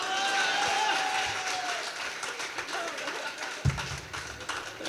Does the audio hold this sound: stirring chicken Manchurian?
no